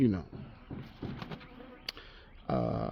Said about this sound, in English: Maybe I shouldn't fan these bees.